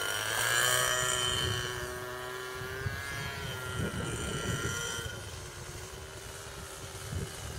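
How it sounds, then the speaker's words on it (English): An electric RC model plane's motor whines at a steady pitch, easing off as the aircraft comes in to land outdoors on a spring day, with no speech. "That motor's got quite a good throttle response on it."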